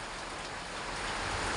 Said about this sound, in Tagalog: Tingnan nyo, napakalakas ng ulan.